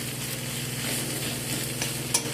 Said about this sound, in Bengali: আদা রসুনের কাঁচা গন্ধটা চলে যাওয়া পর্যন্ত আদা রসুনটাকে একটু ভালো করে ভেজে নিচ্ছি।